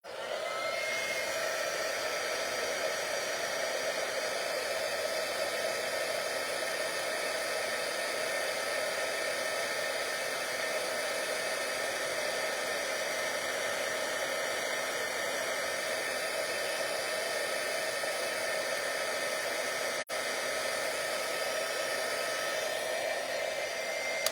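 A heat tool blows hot air onto embossing powder on a card, a loud, steady whirring hum that runs unbroken for about twenty-four seconds.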